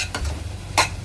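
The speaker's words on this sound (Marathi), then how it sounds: "टोमॅटो प्युरी कांद्यावर चांगली परतून घ्यायची आहे 3 ते 4 मिनिटं" Tomato puree sautéing on onions in a pan, with two short bursts of sizzling and stirring over a low steady hum.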